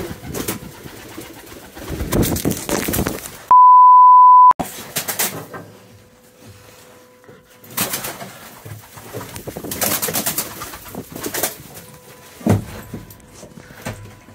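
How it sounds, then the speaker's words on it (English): Pigeons cooing and fluttering inside an abandoned theatre, in bursts of rustling and calls with quieter gaps between them and a brief steady electronic beep partway through, no speech. "These bloody pigeons."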